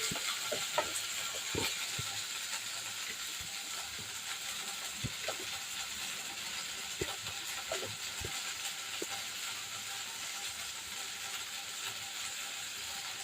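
Washed turkey berries sauté in a pan with a steady, moderate sizzle, punctuated by scattered clicks and scrapes of a spatula stirring them around; no voices.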